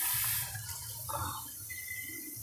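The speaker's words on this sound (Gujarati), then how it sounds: "પાણી નાખીશું" Water splashes and pours briefly into a pot of cooking tomato curry, a short close-up gush that settles into quieter trickling.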